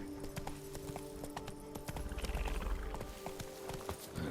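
Hoofbeats of Roach, a horse in The Witcher 3: Wild Hunt, galloping in a steady clip-clop rhythm with a few whinnies and game ambience behind, growing heavier and louder near the middle.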